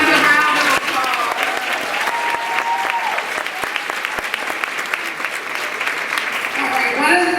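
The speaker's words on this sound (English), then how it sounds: "Give her another round of applause." A large audience at a women's charity event gives a sustained round of applause, loud, dense clapping filling the room from start to finish, with a few cheers and a voice near the end.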